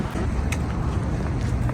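Wind blowing steadily across a city sidewalk in winter, a continuous broadband rush with low rumbling gusts buffeting the microphone, with no clear voices.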